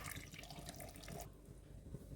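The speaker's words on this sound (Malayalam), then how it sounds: "ആ ശർക്കര നമുക്കൊന്ന് ഉരുക്കാനായിട്ട് നമുക്കിതിലേക്ക് ഒരു അര കപ്പ് അടുപ്പിച്ച് വെള്ളം ഒഴിക്കാം" Water, about half a cup, is poured onto jaggery in a pan to melt it for a yam payasam, a brief trickling splash followed by soft dripping, faint and close with no talk.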